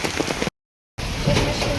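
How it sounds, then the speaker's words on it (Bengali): Heavy rain pours down hard around someone sheltering under an umbrella, a dense close hiss of falling water that drops out completely for a moment before resuming just as strongly. "অলরেডি আমার পুরো ভিজে গেছি, ছাতায় মানছে না, এত জোরে বৃষ্টি হচ্ছে।"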